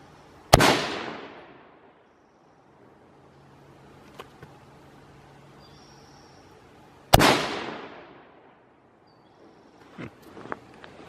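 Two loud, close gunshots from a hot pink AR rifle fired at targets for groups, each ringing out and decaying over a second or two, separated by long quiet gaps with faint clicks and small handling noises near the end.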